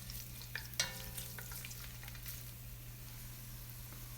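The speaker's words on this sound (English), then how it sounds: "we're going to add the garlic and saute until golden brown" Garlic sautéing over medium-high heat in a Dutch oven, a soft steady sizzle with a couple of sharp stirring clinks near the start, close and alone with no talk.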